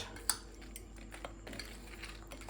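A utensil mixes prawn chaat in a bowl, giving soft, sparse clinks and light scraping that stay faint and close against a quiet room hum.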